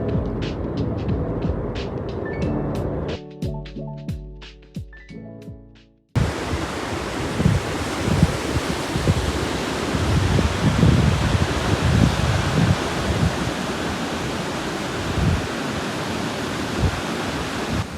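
Ocean waves and wind at a South Bay beach in San Diego on the Pacific, a loud steady roar of surf that continues without a break, following a few seconds of quieter, different sounds at the start.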